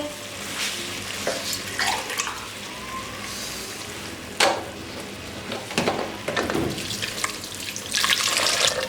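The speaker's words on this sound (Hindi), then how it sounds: "अब इसमें पानी ऐड करेंगे।" Water is poured and splashes into a pot holding washed masoor dal, a steady running, gurgling stream with clinks and splashes building louder toward the end.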